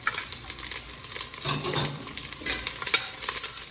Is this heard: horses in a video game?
no